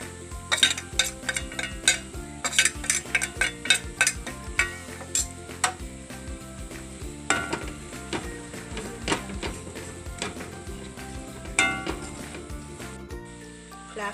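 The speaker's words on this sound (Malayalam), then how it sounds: "നമുക്കിനിത് ചെറു തീയിലാണ് ഞാൻ വഴറ്റുന്നത്" Clam meat being sautéed with chili, coriander and masala powders in a pan over a low flame, irregular scraping and tapping of a spoon against the pan with a soft sizzle beneath, close and fairly busy.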